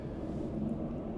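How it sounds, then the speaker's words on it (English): Military jet passing overhead near a base, a steady loud low rumble that holds evenly throughout with no voices. "Right now I got to talk louder because there's a jet going over top."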